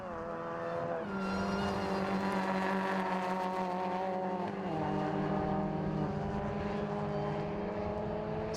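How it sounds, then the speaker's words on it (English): Mini race cars in a British rallycross race, engines revving hard and roaring continuously with gear-change pitch shifts, loud and close, several cars blending into one sustained engine drone. "Steve Brown flicks the car up through the hairpin"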